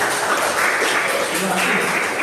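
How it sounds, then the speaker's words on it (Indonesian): A class of junior high students claps together in a classroom, giving a short, loud burst of applause with voices mixed in. "Beri tepuk tangan semuanya untuk menilai."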